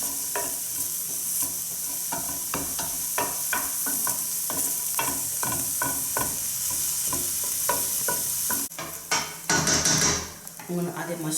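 Shallots or onions sautéing in a pan, with a bright constant sizzle under rapid rhythmic stirring and scraping, and a few louder clanks and a sharper hiss near the end.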